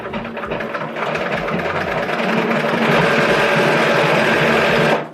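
A sewing machine quilting an irregular stitch line runs in a steady, close, fast whirring buzz for about five seconds, then stops abruptly.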